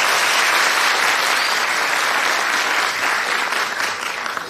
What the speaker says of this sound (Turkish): Bir alkış daha alalım o zaman.